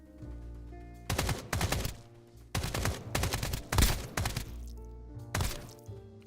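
SMG fire in the video game Escape from Duckov comes in rapid bursts of loud close shots, several separate volleys with short gaps between them over a low game hum.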